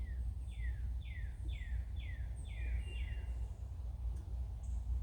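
Repeated descending bird calls sound a short way outside a door, about seven clear chirps in a steady series over a low background hum, with no talking.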